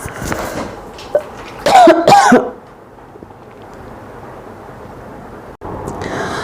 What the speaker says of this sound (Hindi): सॉरी, खांसी आ गया था.